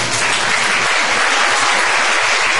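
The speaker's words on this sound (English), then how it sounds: "That's just applause there." Recorded audience applause heard as playback of one synced multi-camera track, a loud, continuous wash of many hands clapping at steady strength that cuts off abruptly at the end, with no voices.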